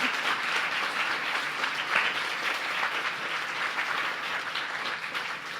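A room full of people applauding after a talk, sustained and even clapping that fills the whole stretch at a moderate, slightly distant level with no voices over it.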